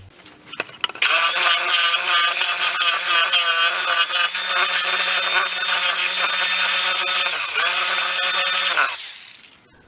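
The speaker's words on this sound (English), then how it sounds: "I'll just take a bit more out of there with a jigsaw" A jigsaw cuts wood to trim a piece for a receipt box, a loud, steady buzzing drone with a rapid reciprocating rasp that runs for about eight seconds, then winds down and stops.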